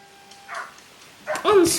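A dog barks in the Dog Simulator video game, giving a couple of short, fairly close yips near the end while a person talks over it.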